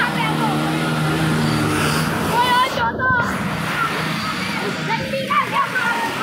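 Water sloshes and splashes as a motorbike pushes through deep rain floodwater on a road, engine running, with people talking over it.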